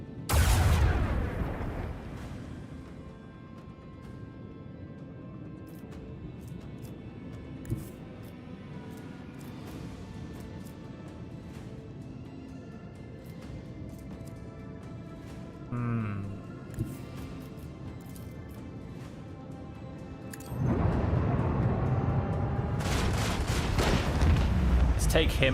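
Shooting in the Warhammer 40K: Rogue Trader game, a loud burst of gunfire and explosions at the start, a long stretch of low rumbling ambience with faint thuds, then another heavy volley near the end.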